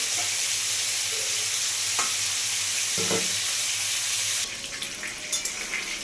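Fish frying in hot oil makes a continuous close hiss with a few soft knocks, the sizzle easing slightly toward the end; no one speaks.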